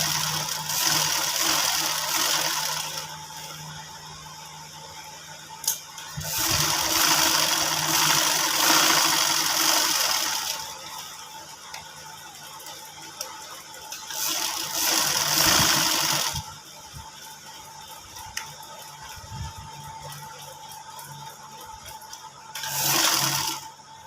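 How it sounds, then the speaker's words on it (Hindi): A sewing machine stitches a strip for a gents cuff, running in several close bursts of rapid mechanical whirring separated by quieter pauses, with no speech. "अब इसकी सिलाई लगा लेंगे यहाँ तक सारी पूरी।"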